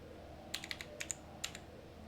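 Quick bursts of keystrokes on a computer keyboard as a Helm upgrade command is entered, a dozen or so close, light clicks in an uneven rhythm over a faint hum.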